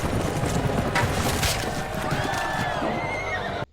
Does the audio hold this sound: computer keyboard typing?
no